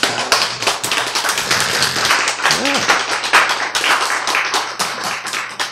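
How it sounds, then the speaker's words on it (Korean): An audience claps in a lecture hall, a burst of dense, close hand claps running the whole stretch with a brief voice sounding through the middle. "박수!"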